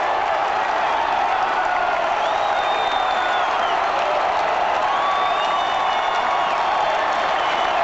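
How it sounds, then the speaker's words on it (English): Football stadium crowd roars after a goal in an A-League semi-final between Western Sydney Wanderers and Brisbane Roar, a dense, continuous wall of cheering and whistles heard from within the stands, loud and unbroken throughout. "Listen to the crowd!"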